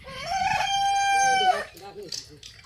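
A village rooster in rural Bangladesh lets out one loud, close crow that rises, holds and trails off, followed by a few faint clucks.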